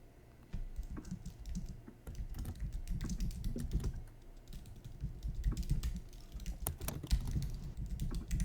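Fingers pound hard on a computer keyboard in fast, irregular bursts of sharp clacks. The typing sounds close and continuous, with brief pauses between bursts.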